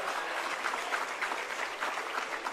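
Audience applause at a national quality-concepts convention hall, a dense steady patter of many hands clapping, moderately distant, with no speech over it.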